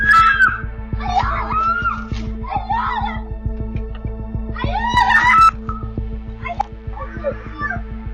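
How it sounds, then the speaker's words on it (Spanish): During a street fight, a woman lets out repeated high, distorted screams for help in bursts. The screams sound loud and near, over a harsh, buzzing background. "La mujer grita pidiendo ayuda mientras la riña no para."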